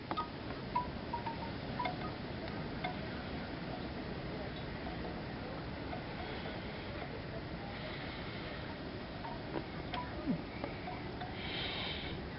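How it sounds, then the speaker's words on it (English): Wind from a Minneapolis blizzard buffets the microphone outdoors, a steady rough rushing roar with gusty bumps throughout. "that's the way that the wind is coming from"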